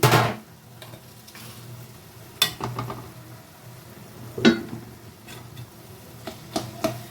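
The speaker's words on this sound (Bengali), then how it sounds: "ঢাকাটা আমি তুলে দিচ্ছি" A metal lid clanks as it comes off a cooking pot of simmering bottle gourd, with a sharp clatter at the start, then a few light metallic knocks and taps over a low kitchen hiss.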